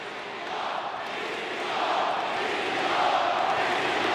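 A wrestling arena crowd at AEW Grand Slam Mexico gives a broad, steady roar that swells slightly toward the end, a distant wash of many voices with no single call standing out.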